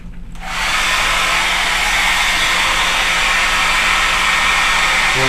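A handheld dryer blows over freshly applied fine Venetian marmorino plaster, switching on with a brief rise, then holding a loud, steady rushing whoosh up close with no pauses.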